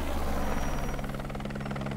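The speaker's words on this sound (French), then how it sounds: "Des hélicoptères survolent la vallée en permanence." Helicopter flying over a Himalayan valley, a steady, loud rotor thump with a continuous engine drone, sustained and close throughout.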